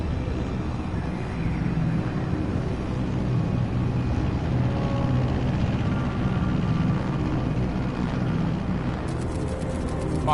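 A steady, heavy aircraft engine drone fills the cabin during a Soviet-airspace approach in the Metal Gear Solid Snake Eater remake, a constant low roar with faint higher tones near the end.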